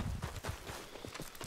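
Horse hooves clip-clop in the open-world western game Red Dead Redemption 2, a steady run of soft thuds at moderate distance over a rough background bed, with no talk.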